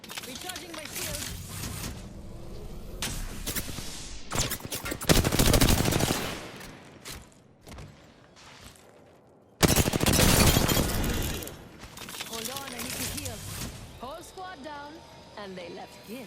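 Bursts of enemy gunfire in the video game Apex Legends, with loud volleys of rapid shots separated by quieter stretches, and a player talking throughout.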